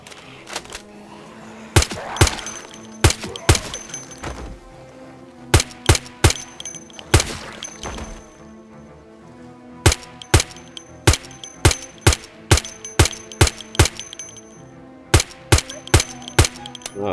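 Gunfire in the Project Zomboid video game: a long run of sharp, loud shots, some single and some in quick bursts, spaced irregularly over a steady background hum.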